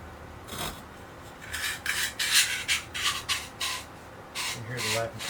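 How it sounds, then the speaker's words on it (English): Abrasive lapping compound grinds inside an AR upper receiver, giving rhythmic rasping strokes in a series of short bursts that are close and fairly faint. "You can hear the lapping compound working already."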